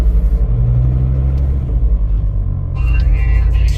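Exhaust of a turbocharged 2.5L Rabbit breathing through a 3-inch stainless catless downpipe and bottle-type resonator, a loud steady low rumble at idle that swells slightly near the end, close to the microphone with no talk.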